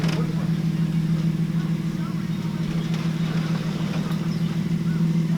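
A steady car engine idles close by with a strong low hum, while people talk over it throughout.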